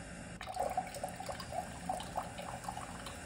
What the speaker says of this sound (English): I have a Coke can, and I'm gonna kind of pretend that it's like a coffee pouring down into the cup